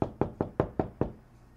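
Six sharp knocks on a door come at an even quick pace, close and fairly crisp, then stop, with no talking.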